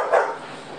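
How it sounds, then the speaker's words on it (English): A single dog bark comes through loudly and fairly close, then a hum trails off beneath it. "We'll just let the dogs bark here for a minute"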